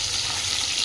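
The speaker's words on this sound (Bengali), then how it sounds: "দেখুন মাছটা আমার ভালোভাবে ভাজা হয়ে গেছে" Fish frying in hot oil in a pan, a steady broad sizzle that holds evenly through a short moment with no voices.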